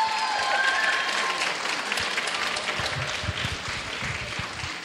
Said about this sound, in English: How about another round of applause for her?